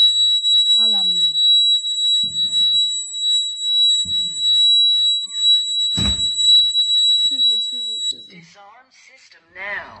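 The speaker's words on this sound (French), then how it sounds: "Alarme n'a déclenché." An alarm goes off with a high, continuous electronic tone that holds for about eight seconds before cutting out, while people talk over it and a heavy thump sounds partway through.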